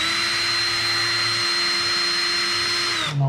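A small power driver whirs steadily in one long run as screws come out of an Arrma Infraction RC car body, then cuts off abruptly near the end.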